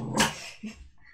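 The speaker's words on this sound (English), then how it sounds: "Sorry about the dog." A dog indoors gives one sharp, loud bark followed by a softer, shorter woof, heard close against a quiet room.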